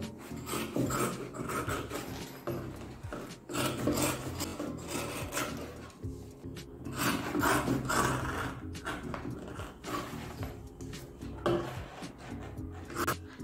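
Fabric being cut for a zippered shopping bag with three pockets, heard as continuous close rasping, crunching snips and rustling handling noise that comes in uneven bursts, with no talk.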